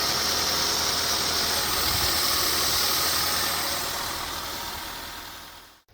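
A 90s Japanese 4x4 engine idling right after its first start in years, a close, steady mechanical rumble that fades and cuts out abruptly near the end.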